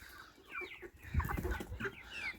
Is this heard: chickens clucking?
yes